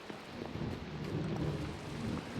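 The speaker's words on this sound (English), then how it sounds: "it looks like it's raining out here." Steady rain and rumbling thunder roll through a nighttime Minecraft world, a dense continuous wash of rainfall with low booming thunder underneath, no voices.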